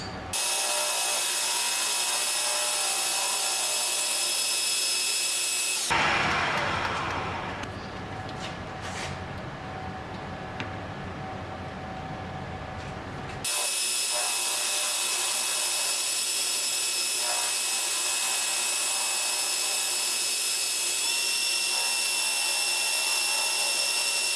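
A metal lathe runs with a steady high whine, broken midway by several seconds of rougher, scraping cutting noise as it faces brass, before the even hum returns.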